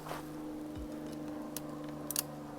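A Zeiss Ikon Nettar medium-format 6x6 folding camera set to bulb mode gives a couple of faint, sharp mechanical clicks over a quiet background hiss.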